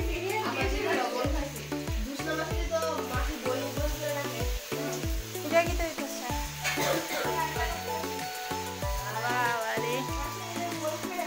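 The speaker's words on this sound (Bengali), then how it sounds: "এখানে রান্না বান্না চলছে। তো এখানে বেগুন ভাজি আর আলু ভাজি হবে।" Eggplant and potatoes frying in a home kitchen give a steady sizzle, heard under ongoing talk and background voices.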